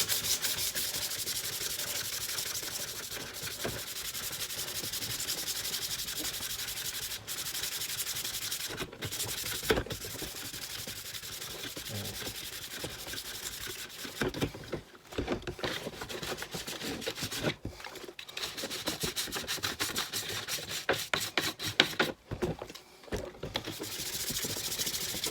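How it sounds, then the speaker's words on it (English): A soft nylon brush scrubs grime off a dirty lamp lens during a lamp restoration, a steady close, fairly loud bristly rubbing that continues almost throughout with only brief pauses. "we use a soft nylon brush just to get the worst off"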